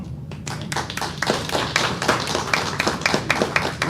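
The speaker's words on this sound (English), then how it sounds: "So if we can clap for Steve." An audience claps for Steve at a school board meeting, a brief burst of moderately loud hand claps from a modest group.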